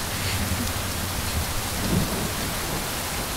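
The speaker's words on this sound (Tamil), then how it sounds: "பயங்கர மழை இல்ல? நல்ல மழை." Heavy rain pours down continuously with thunder rumbling low underneath, a dense, loud, steady wash of storm noise with no voices.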